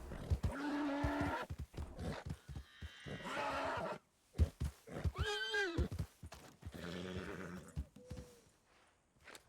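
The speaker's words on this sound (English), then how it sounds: "That's how you lasso a horse and you tame it." In a video game, a horse lassoed for taming neighs and whinnies repeatedly up close, with snorts and a shrill rising whinny midway, mixed with clip-clopping hooves.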